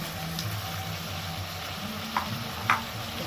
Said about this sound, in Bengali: পেঁয়াজটা দিয়েও টমেটোর সাথে ভালো করে ভেজে নিতে হবে